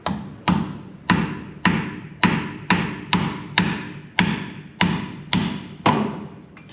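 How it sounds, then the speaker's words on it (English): A hammer taps a flathead screwdriver into the differential cover seal of a 1998–2013 Ford F-150 rear axle, giving about ten sharp, evenly spaced metallic strikes roughly half a second apart, each ringing briefly, close and fairly loud. "tap the screwdriver in, which will release that silicone seal"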